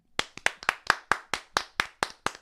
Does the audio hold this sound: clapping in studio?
yes